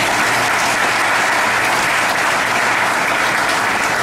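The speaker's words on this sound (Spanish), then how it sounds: "Dame un aplauso a Cristo." Dense, loud applause from a church congregation fills the space as a steady wash of many hands clapping, continuous and even with no talk over it.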